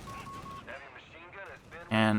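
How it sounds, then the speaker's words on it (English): A Panzerfaust is fired at a half-track in the Company of Heroes 3 strategy game: battle noise with talk at first, then a sudden loud blast at the end. "Grenadiers getting a Panzerfaust out to disable that half-track."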